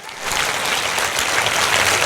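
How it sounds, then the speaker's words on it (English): Applause from a stand-up comedy audience at the Karachi Literature Festival, a dense, steady wash of clapping that swells in quickly and holds loud for the full stretch. "come on, a bit more applause"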